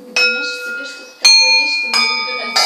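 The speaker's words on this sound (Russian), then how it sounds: "Но колокол вот этот православный, он немножко попроще сделан, чем эти чаши." Three separate strikes of an Orthodox bell ring out in quick succession, each clear metallic tone sustaining and overlapping briefly, loud and close.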